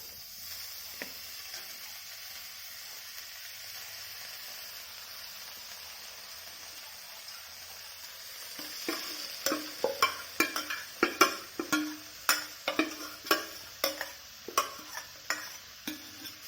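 Red spinach and cooked moong dal curry, Kerala style, stirred in a pan: a quiet simmering hiss at first, then a run of distinct close scraping, clacking stirs at a steady rhythm with no talk.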